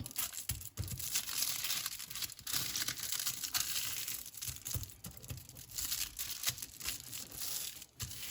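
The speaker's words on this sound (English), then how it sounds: "Now I'm going to put some foil over it to wrap them up." Aluminium foil crinkling and rustling continuously as it is wrapped around Adana kebab skewers, close-up crackles and crumples with a few sharper tearing sounds, no speech.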